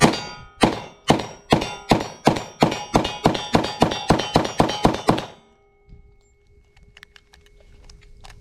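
A Glock pistol fired at a shooting range: about fourteen sharp, loud reports in a fast, even cadence, each with a short ringing decay. Quiet follows with a few faint clinks.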